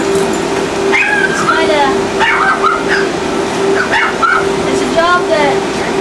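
A dog being groomed whimpers and lets out short high yips in scattered bursts, heard under a person talking, with a steady hum of air conditioning or a dryer running throughout.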